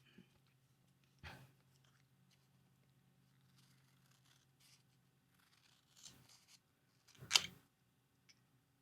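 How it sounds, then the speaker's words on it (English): Scissors snip through watercolor paper while cutting out a flower shape, a few sparse crisp cuts spaced over several quiet seconds, the sharpest one near the end. "Now let's cut the shape out."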